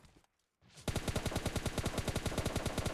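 Automatic gunfire in PUBG Mobile Lite: after a brief near-silence, a loud, steady burst of rapid, evenly spaced shots runs without a break to the end.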